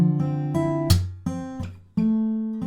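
Guitar riff, strummed and fingerpicked chords in a steady pattern of several distinct attacks with sustained ringing notes, close and solo with no voices.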